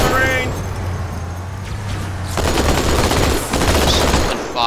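Gunfire from a battle in the video game Halo 2, a dense continuous barrage of shots mixed with game noise and effects, loud and close throughout.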